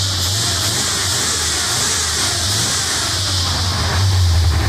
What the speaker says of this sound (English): She's running, fired right up, sounds pretty clean